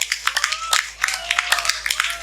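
Scattered audience claps for the committee at an outdoor religious gathering in an Indonesian village, uneven and sparse with a sustained tone humming beneath and a voice talking over it.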